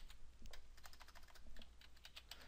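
Computer keyboard typing, quiet and steady: a brisk run of light key clicks with irregular rhythm, close to the mic, no voices.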